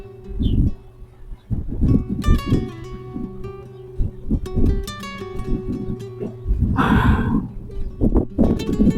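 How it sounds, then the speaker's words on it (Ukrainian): House sparrows call and chirp in busy bursts, close and loud, with cooing and short squabbling notes overlapping across the clip. "Просто співають пташки. Це щось особливе сваряться горобці."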